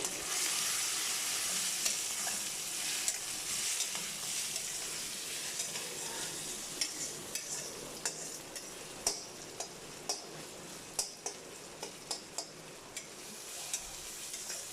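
Onion and tomato sauté in a hot pan with a steady broadband sizzle, while sharp stirring clicks and taps from a utensil scraping the pan come through near and clear, growing more frequent toward the end. No one speaks.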